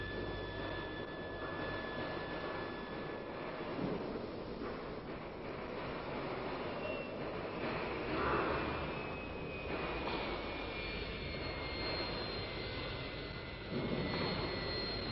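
A Dassault Mirage III jet climbs away and fades into clouds, its engine a steady broad roar with a thin high whine, held at a constant distance throughout.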